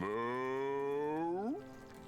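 A cow moos in the video game Divinity: Original Sin, one long, clear, low call that bends upward at the end and then stops, with no talk over it.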